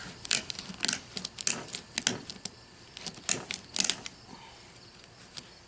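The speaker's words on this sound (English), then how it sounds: "you can see how these all-purpose shears just cut right through this armor" All-purpose shears snip through the armored scales of a gar fish, making a rapid series of sharp, crunchy clicks in irregular bursts, close up and alone.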